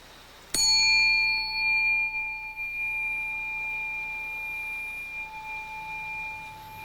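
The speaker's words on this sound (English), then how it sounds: "a bell indicates a short break in which tired limbs can be rearranged before the next session" A single bell strikes sharply and then rings on with a long, steady sustained tone, marking a short break in a session; no voices are heard.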